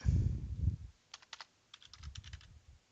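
Someone types a birth date on a computer keyboard: two short clusters of quiet, crisp key clicks, with low background rumble before and around them.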